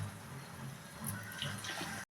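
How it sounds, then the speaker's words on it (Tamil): Water is poured into a pan of sautéed masala for egg kurma, a soft continuous splashing and trickling, faint and close, ending with a brief cut to silence. "மசாலாவை 2 நிமிஷம் வதக்கிட்டு தண்ணியை சேர்த்துப்போம்."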